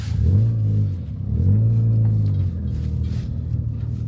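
A modified Toyota Starlet drives around an industrial estate, its engine rising in two distinct accelerating pulls with a steady low rumble in between, close and fairly loud with no talking.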